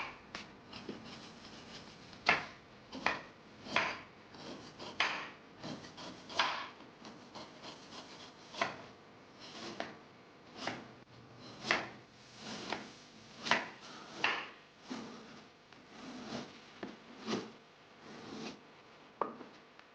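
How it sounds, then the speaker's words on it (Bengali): Knife cutting a block of date palm jaggery (patali gur) into crumbly pieces, a run of repeated short scraping, chopping strokes at an uneven rhythm, close and clear, with no talk. "300 গ্রাম খেজুরের পাটালি গুড় ছুরি দিয়ে কেটে নেব।"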